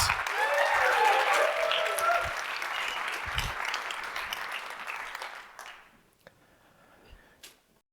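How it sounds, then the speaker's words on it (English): Startup event audience applauding a team as it takes the stage, a full burst of crowd clapping that gradually thins and fades out to near silence with a few last scattered claps. "we're going to continue to give the applause, continue to give the applause"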